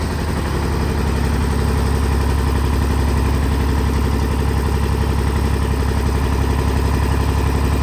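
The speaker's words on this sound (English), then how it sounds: "he's got the tractor going" A tractor engine runs at a steady idle close by, a loud continuous low throbbing drone with an even rhythmic pulse and no variation throughout.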